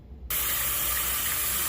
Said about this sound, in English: And putting some water down up in here.